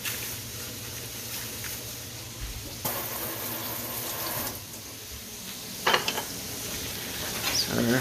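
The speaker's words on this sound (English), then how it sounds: "So our onions are browning a bit, starting to soften up" Onions fry and brown in a pan with a steady soft sizzle, a few scrapes and clinks of stirring rising above the constant crackle.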